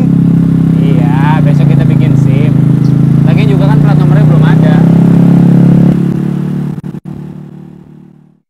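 A motorcycle engine idles with a loud, steady low rumble close by while people talk over it, then the engine cuts off and the sound fades to silence.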